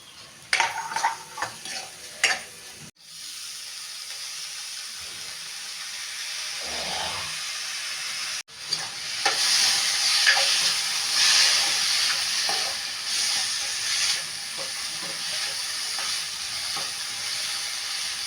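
Coconut, ginger and garlic frying with onion in oil for a Maharashtrian matki bhaji: a steady close sizzle with hissing steam, and stirring and pan scrapes that grow louder after a brief lull.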